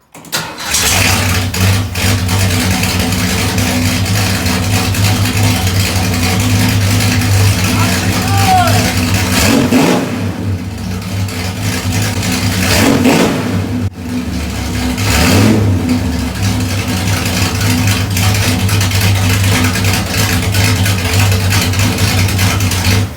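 1972 Ford Maverick engine with a new budget exhaust and X-pipe, already warmed up, cranks and fires, then settles into a loud, rumbling idle broken by three strong revs that swell and fall back.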